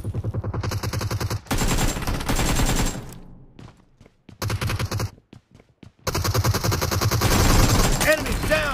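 Loud, rapid automatic gunfire rattles in long bursts with brief pauses during a BGMI gun-game battle, with sharp close shots and game effects.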